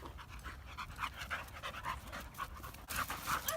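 A dog pants in quick, steady breaths throughout, fairly close and alone with no talking, from a red Doberman or an American Staffordshire terrier.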